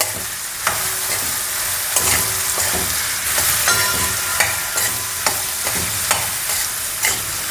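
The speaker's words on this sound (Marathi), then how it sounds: "आता ही चांगली हलवून घ्यायची आहे आपल्याला" Ridge gourd curry with turmeric is stirred in a hot frying pan, a steady close sizzle broken by regular scraping strokes of the spoon every second or so.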